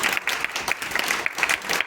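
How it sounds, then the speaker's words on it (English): A live crowd at a 2021 performer's showcase claps loudly and steadily for a role player, the dense applause carrying on without pause from start to end. "Let's give a huge round of applause for David Fisher"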